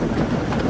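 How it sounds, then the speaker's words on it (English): A steam engine pulling a train rumbles steadily for a brief moment, a loud, continuous mechanical chugging with no voices. "he puffed away with his train"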